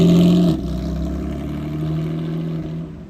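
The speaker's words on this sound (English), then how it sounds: "Beautiful GT4 RS." A Porsche GT4 RS engine on a street in Miami's Design District, a loud rev that drops off sharply after half a second, then settles into a sustained droning engine note that fades at the end.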